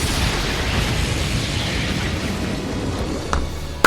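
A roaring, sustained explosion from the Orbital Gear laser attack in the video game Trails into Reverie fills the moment with dense, rumbling blast noise, ending in a sharp final crack.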